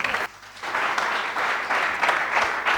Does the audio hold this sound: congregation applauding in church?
yes